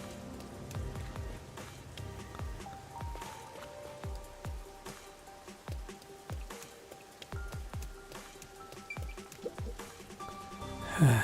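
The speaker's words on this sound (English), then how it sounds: "It's raining today too." Steady rain patters in the video game Master Detective Archives: Rain Code, with scattered individual drops landing on surfaces and no voices over it.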